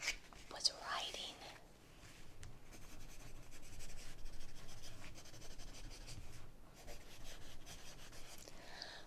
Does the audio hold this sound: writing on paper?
yes